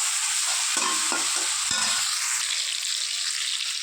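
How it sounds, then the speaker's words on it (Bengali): Onion, green chili and tomato sautéing in hot oil in a pan for a fish head curry, a loud continuous sizzle with a few brief stirring knocks near the start, close up and without speech. "পেঁয়াজ লঙ্কা টমেটোটাকে বেশ ভালো করে কষিয়ে নেব"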